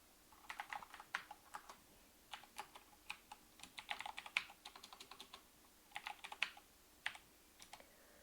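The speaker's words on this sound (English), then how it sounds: "Yeah, type." Computer keyboard typing close by while writing Java code, rapid bursts of crisp key clicks with short gaps, alone and moderately quiet.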